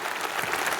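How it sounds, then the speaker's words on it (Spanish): Audience applause at a Conservative Party conference during Boris Johnson's speech, a brief steady wash of clapping from a large crowd, fairly loud and continuous with no clear talk. "Aplausos otra vez entre el público"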